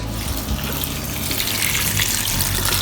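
About 1.5 liters of tap water gushes in a steady, loud stream into a pot for traditional Italian minestrone soup, continuous splashing with no pauses.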